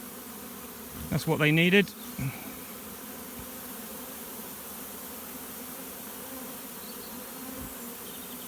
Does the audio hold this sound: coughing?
no